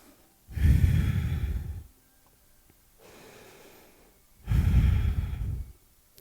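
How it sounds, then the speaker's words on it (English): Slow, audible Ujjayi breathing during a yoga flow, with two long, loud breath cycles of throaty, ocean-like rushing air separated by a quieter, softer breath, close up and with no talk. "this Ujjayi breath is what is fueling us throughout this entire practice"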